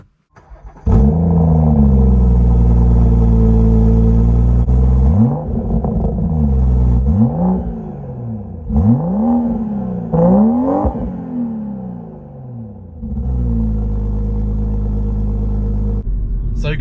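A 2018 BMW M140i with its B58 turbocharged straight-six pulls away and accelerates hard, the loud engine note rising and falling through several gear changes before settling into a steady cruising drone.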